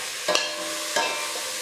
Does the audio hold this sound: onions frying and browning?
yes